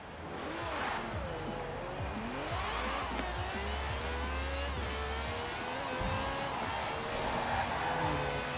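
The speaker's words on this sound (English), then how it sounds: "This is a fast little car." A quick little car in Forza Horizon 4 accelerates hard as its engine revs climb and drop through gear changes, a steady, loud drone with no talking.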